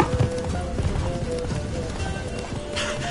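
Hooves of Roach, Geralt's horse in The Witcher 3, clip-clop in a quick, steady running rhythm, close and continuous over a busy game soundscape.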